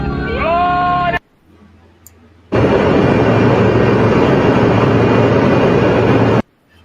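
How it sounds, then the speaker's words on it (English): Steady broadband roar recorded from inside an airplane cabin, loud and continuous for about four seconds after a brief tonal whine and a short quiet gap, with no talking. "This is from an airplane."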